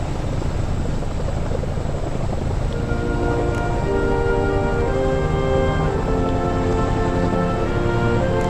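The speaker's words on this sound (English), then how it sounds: "The Royal Air Force Chinook." A Royal Air Force Chinook helicopter in a flight-simulator airshow game thrums with a loud, continuous rotor beat, holding steady and close throughout with rising whine tones.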